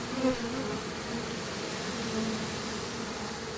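A captured honeybee swarm buzzes around its hive, a dense and continuous droning hum heard fairly close with no voices.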